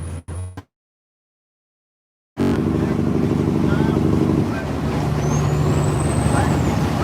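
A truck's jake brake works on the long downgrade of Monteagle, a loud, staccato engine-brake rattle that bursts in after a brief silence and holds before easing into a steady road roar.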